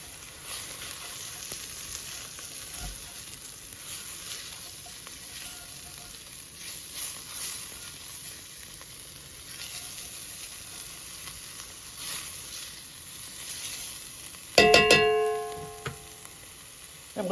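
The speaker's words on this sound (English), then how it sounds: "Saute that up, get that nice and toasted. Now I'm going to put my seasonings in because I want those all to toast as well." Seasonings and aromatics sizzle steadily while toasting in a pot for pasta fagioli soup, a soft continuous frying hiss that ends with a brief metallic clank of a utensil against the pot.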